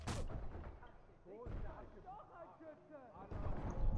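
Gunfire in the shooter video game Sniper Elite 4: several loud bursts like sharp rifle shots boom through the clip, one near the start and others later, while players talk over it.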